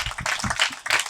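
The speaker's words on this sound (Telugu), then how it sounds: "చప్పట్లు కొట్టి గట్టిగా నిద్రపోకుండా" An audience claps in rhythmic bursts during a Telugu Christian sermon, a few sharp, fairly close rounds of hand claps spread across a brief moment.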